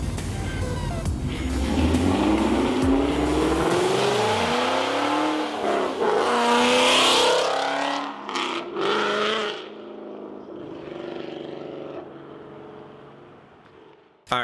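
A Ford Mustang fitted with a Corsa exhaust revs hard and loud, its engine note climbing steeply over several seconds before cutting off sharply and settling into a much quieter, rumbling idle.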